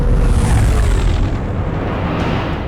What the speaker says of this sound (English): Enemy is firing. Turbo lasers, missiles in what looks like transport pods.